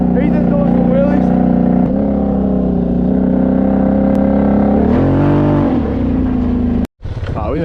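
A vehicle doing wheelies on an icy surface during an ice storm, its engine droning and revving steadily and loudly throughout, with a brief cut near the end and voices talking over it.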